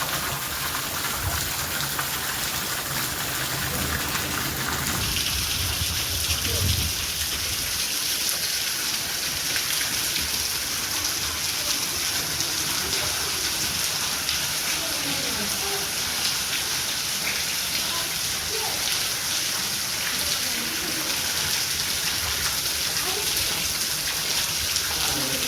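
Heavy downpour with little wind, a dense, continuous hiss of rain on surfaces that stays loud and steady throughout, with a brief low thump near the start.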